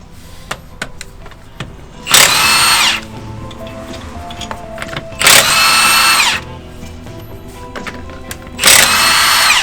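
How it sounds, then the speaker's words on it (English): Battery impact gun undoing alloy wheel nuts on a van, three loud rattling bursts about a second long each, separated by quieter pauses with small clicks and handling noises. "It basically uses rapid impact pulses to. It's like hammering it off."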